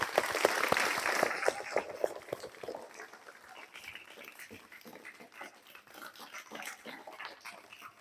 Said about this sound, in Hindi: एक बार हम सभी उनको तालियों के माध्यम से धन्यवाद देंगे दिल से।